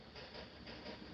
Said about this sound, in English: You can hear my train